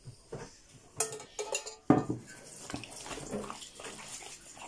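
Broth for kholodets (Russian meat aspic) being strained in a kitchen: close clinks of pots and utensils with splashing, trickling liquid, loudest in a burst near the middle, then settling into softer pouring and handling sounds.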